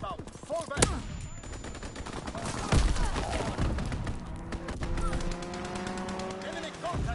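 Bursts of automatic gunfire and sharp shots from an enemy strafing run in a combat video game, loud and close, with explosions and whooshing passes amid battle noise and radio voice callouts.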